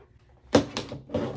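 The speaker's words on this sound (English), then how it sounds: "Hack off this excess fabric." Scissors hacking off excess quilt fabric for a pinwheel lap quilt, three short close crunching snips in quick succession, each a brief rough burst.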